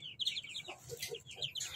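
Albino lovebird chicks give rapid, high, squeaky chirping calls in quick bursts, close by and fairly clear, with faint background noise in an indoor breeding setting.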